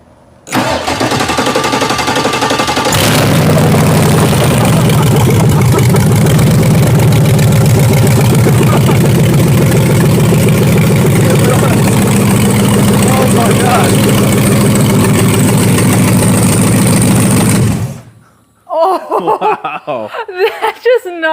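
A Chevelle car engine, an AWD build, cranks and fires up for the first time, then settles into a loud, steady, rumbling idle for about fifteen seconds before cutting off abruptly, followed by brief talk and laughter.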